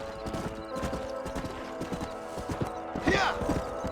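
Horses clip-clop steadily with a brief neigh near the end in Red Dead Redemption, hooves close and rhythmic under a faint background voice.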